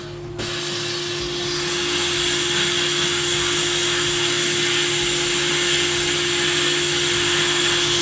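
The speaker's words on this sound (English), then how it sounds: "Go on then. Sandblast for us." Sandblasting a rusty car panel produces a loud, continuous hissing blast of air and grit that starts abruptly and holds steady, with a constant low mechanical hum beneath.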